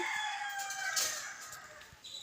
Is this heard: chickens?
yes